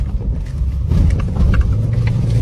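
A car is driven out of a house, its engine giving a close, low rumble that swells and shifts as it moves, with no one speaking.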